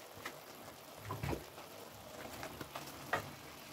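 Onions, garlic and hot chili frying in a pan with meat give a faint, steady crackle at low level, with a few soft stirring clatters scattered through.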